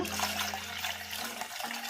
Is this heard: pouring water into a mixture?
yes